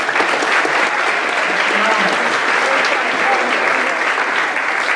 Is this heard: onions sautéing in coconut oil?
no